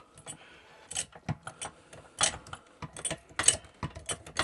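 A hydraulic pump is worked by hand to lift a motorcycle fork, giving a busy run of metallic ratcheting clicks and clacks in uneven bursts, close by and alone.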